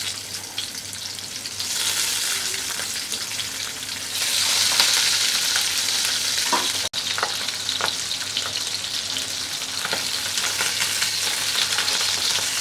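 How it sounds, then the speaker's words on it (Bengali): Pabda fish frying in hot mustard oil give a loud, continuous close sizzle that surges when more pieces go in, with an occasional clack of a utensil against the pan. "এখন লবণ হলুদ মেখে রাখা মাছগুলো ভেজে নেব"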